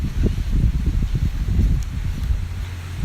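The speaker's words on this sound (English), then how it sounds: "There's that wind." Wind gusts through garden plants with a steady low rumble and buffeting against the microphone, loud and continuous for the whole stretch with no voice over it.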